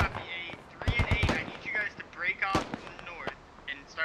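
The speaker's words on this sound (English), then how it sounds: "Russian grenades being thrown all over the place" Grenades going off in the tactical shooter Squad, a few sharp bursts in quick succession followed by further blasts, set amid battlefield noise with voices talking over it.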